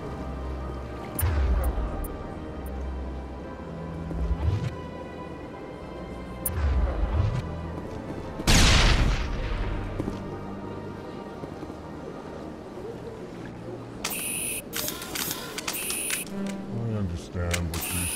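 A grenade explosion in Mass Effect, a single sudden loud broadband blast midway through, among scattered gunfire thuds, crackling debris and later high synthetic whines, with voices talking around it.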